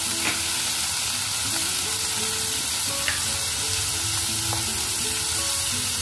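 Chicken gizzards frying with tomato, crushed garlic, ginger and chopped potato, a steady close sizzle with occasional stirring scrapes in the pan.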